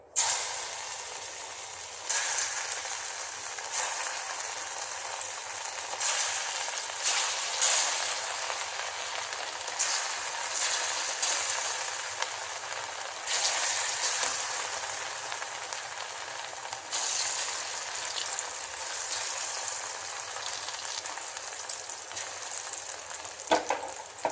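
Colocasia pieces coated in rice flour frying in a pan, a steady, close, loud sizzle with occasional stirring scrapes and no talking.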